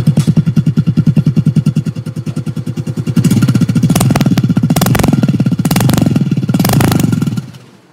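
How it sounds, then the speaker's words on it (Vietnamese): A Honda Wave 125i motorcycle engine runs with a rapid, even putter, then revs up louder and rougher before cutting off abruptly at the end. "chút xíu mình nổ máy chiếc quay cho các bạn nghe ha"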